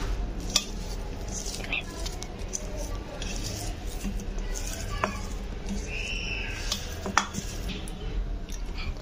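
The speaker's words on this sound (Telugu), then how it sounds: "ఇలా మిక్స్ చేసుకోవాలండి" Carrot bajji batter is mixed in a bowl, with continuous scraping and clinking of a spoon against the dish close up. Faint background noise runs underneath, and there is no clear talk.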